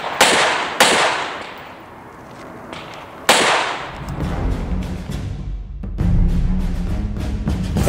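Sharp pistol reports at an IDPA defensive shooting match outdoors: two close, loud cracks, a pause, then another crack, followed by lower rumbling and clatter, with faint scattered pops later.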